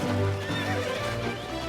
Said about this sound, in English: The ponies make the 100-yard swim in about 10 minutes.